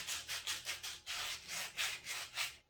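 Wood being hand sanded with 80-grit sandpaper to smooth the edges of a coffee filter stand. About eleven even rasping strokes follow in a steady back-and-forth rhythm, close and alone.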